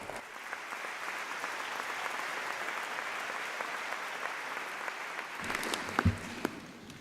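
Sustained applause from a graduation ceremony audience at a Birmingham City University event, a steady dense wash of clapping filling the hall, with a few louder nearby claps and brief stirrings near the end.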